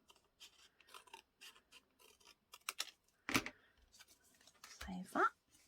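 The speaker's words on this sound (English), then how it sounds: "I'm going to go with my scissors." Scissors snipping paper and washi tape up close, a run of short crisp cuts and rustles in irregular bursts, with a person talking at times.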